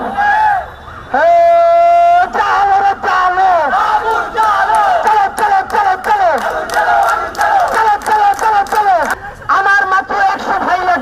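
A large protest crowd chants a slogan in unison, loud call-and-response bursts repeating rhythmically with a leading voice shouting between them, outdoors at a march.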